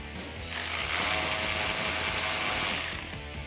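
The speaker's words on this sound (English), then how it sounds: "you're going to want to remove the hood latch using a T15 Torx bit" A T15 Torx bit on a power driver removes the hood latch of a Silverado, a sustained mechanical whir that ramps up, runs steadily for about two seconds, then winds down, close and alone.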